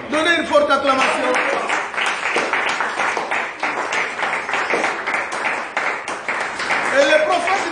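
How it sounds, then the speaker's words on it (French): A church congregation breaks into clapping and cheering during a Sunday service, the applause mixed with raised voices calling out over it. "Donnez une forte acclamation."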